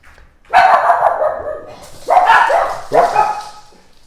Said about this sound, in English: The dog's going to bark.